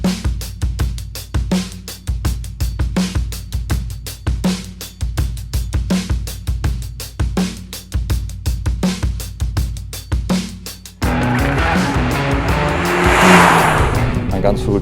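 A Renault Megane Trophy R race car engine revs hard through repeated gear changes, then a loud sustained roar with tire noise as it drives on the L'Anneau du Rhin track.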